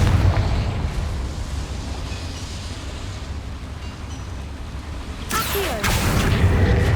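A Confringo spell explosion in Hogwarts Legacy gives a loud, rumbling blast with a sustained roaring tail, then a sharp crackling burst near the end.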